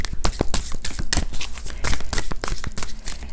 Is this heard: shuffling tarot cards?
yes